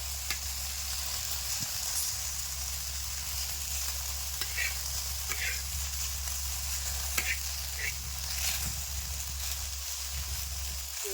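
Okra being stirred and fried in a pan gives a steady soft sizzle with occasional scraping strokes and light taps, close but fairly quiet throughout, with no talking.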